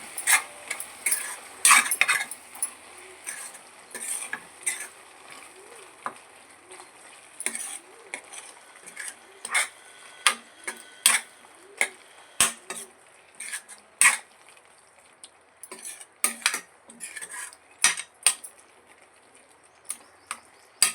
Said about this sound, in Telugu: కూడా చక్కగా మిక్స్ చేసుకుందాం.